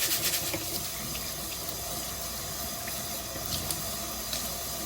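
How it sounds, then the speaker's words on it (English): White rice rinsed in a small strainer under a running tap, a steady close hiss and splash of flowing water with light rattling of grains, no talk. "I just use like a little strainer and then I keep going until the water is completely clear"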